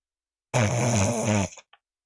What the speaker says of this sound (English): Soft snoring sounds, so content.